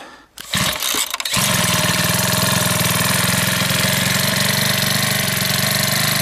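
The small gasoline engine of a Makita EVH2000 pesticide sprayer cranks over a few times, catches, and settles into a loud, steady idle with a rapid, even putter.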